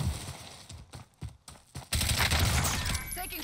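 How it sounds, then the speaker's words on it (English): Gunfire in the Warzone battle royale shooter, a dense burst of rapid shots that swells loud in the second half after quieter scattered cracks. "Taking shots here."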